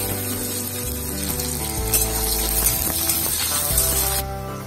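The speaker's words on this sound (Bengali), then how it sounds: "এবার আমি শুকনো লঙ্কা ছেড়ে দেবো আর একটু কালো জিরে ফোড়ন দেবো" Dried red chillies and nigella seeds crackle and sizzle in hot oil, a dense continuous frying hiss close up with small sharp pops, no voices over it.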